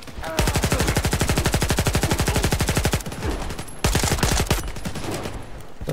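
Rapid automatic gunfire in the video game Stalker 2, a long fast stream of evenly spaced loud shots, a short pause, then another burst tapering off, close and dominant.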